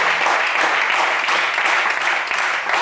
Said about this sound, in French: Des applaudissements pour Anoma.